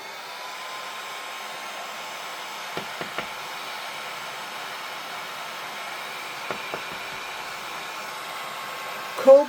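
A heat tool blows steadily to dry wet watercolour on cold press card, a constant airy hiss held at an even level with a few faint clicks and a brief louder bump at the end.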